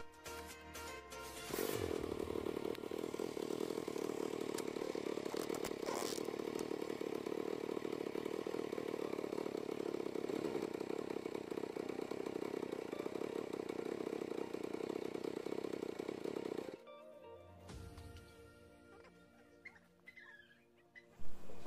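A 100cc four-stroke motorcycle engine runs steadily after a restart, a loud, even drone lasting about fifteen seconds before it cuts off, followed by quieter clatter and handling noises.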